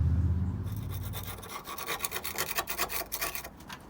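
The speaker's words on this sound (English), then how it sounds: "I'm going to scrape this off, clean it all up, and then apply the rust killer to this as well." Rust being scraped off a Ford ST170 car chassis, a rhythmic rasping scrape in quick strokes that follows a low rumble at the start, close and fairly loud.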